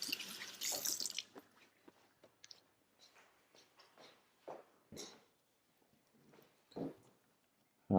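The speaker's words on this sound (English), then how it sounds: "just wash my hands." Hands are rinsed under a running kitchen tap, giving faint, intermittent splashes and drips in a quiet room.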